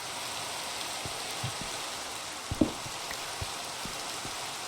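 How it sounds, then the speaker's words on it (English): Rain falling in the video game Minecraft, a steady soft hiss of rainfall with a few faint low thumps and one brief clatter, moderately quiet and without any voices. "it really feels like the rain gets louder and louder"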